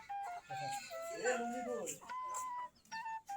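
Free-range chickens clucking in a yard alongside domestic pigeons, a close rising squawk in the middle among scattered calls, with a voice talking now and then over them.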